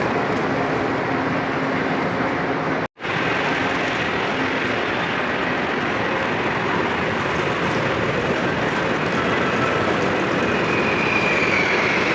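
A train travelling from Mecca to Medina, a steady loud rumble and hiss of the carriage in motion heard from inside, with one brief dropout near the start and no talking.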